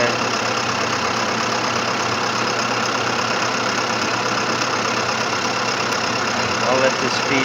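A lathe turns down Black Palm pipe stock as the cutter feeds through, giving a steady, loud motor hum and continuous cutting noise that stays even throughout with a slight rise near the end.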